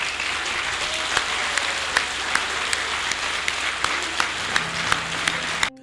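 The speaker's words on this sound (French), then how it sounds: "saluer de façon appuyée par des applaudissements nourris son Excellence Monsieur le Président Goïta" Sustained, loud applause from an audience at a Malian state event, honoring President Goïta and the armed forces, a dense steady wash of clapping with scattered sharper claps throughout, ending abruptly.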